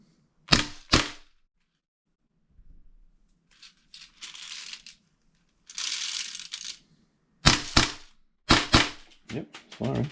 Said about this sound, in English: Yep, it's firing. Full auto.